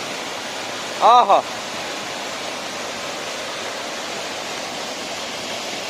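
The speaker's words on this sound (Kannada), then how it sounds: "ಈ ನೀರಿನ ಜಲ ಜಲ ಶಬ್ದ ನೋಡಿ" Monsoon water flows in a continuous, even rush, and a person briefly exclaims about a second in.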